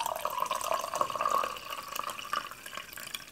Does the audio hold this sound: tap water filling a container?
yes